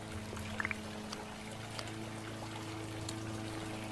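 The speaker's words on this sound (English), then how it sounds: "Oh, I still have to water these." Plants being watered in a video game, a soft continuous pouring trickle with a few brief clicks, low in level over a faint steady background hum, no voices.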